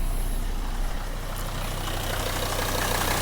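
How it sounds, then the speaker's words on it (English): A car engine idles steadily and close by in neutral with the heater on full, a constant low rumble without breaks. "car's in neutral, I'm just going to start the engine."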